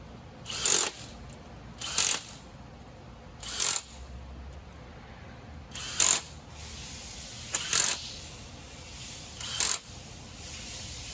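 Six short ratchet bursts click out about every two seconds, loud and close, each a quick run of pawl clicks tightening the bolts on a rear main seal cover, with a quiet gap between strokes.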